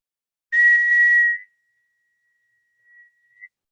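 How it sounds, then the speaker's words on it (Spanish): A person whistles a sustained high A6 note, a pure steady tone held about a second, then trailing into a faint thin continuation with a couple of soft blips. "Ahí estoy silbando un La 6."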